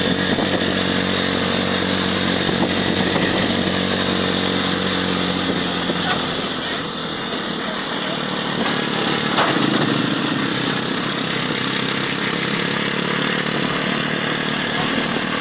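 A tricycle's motorcycle engine drones loudly and continuously up close, a rough buzzing roar that dips briefly midway before revving back up.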